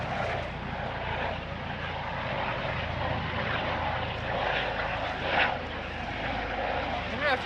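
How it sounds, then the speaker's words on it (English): A helicopter flies overhead in a suburban garden, making a steady, broad engine and rotor drone that lasts throughout and swells slightly near the end. "I don't know if you can hear that helicopter going over our heads right now."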